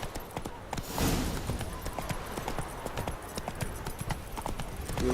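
Horse hooves gallop in a steady, rapid clip-clop rhythm in The Witcher 3, close and fairly loud over an outdoor game ambience, with a brief whoosh near the start.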